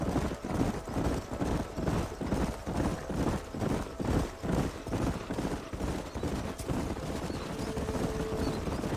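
Horses gallop in the Red Dead Redemption video game, a steady rhythmic clip-clop of hooves pounding loudly and continuously throughout, with busy ambient noise layered underneath.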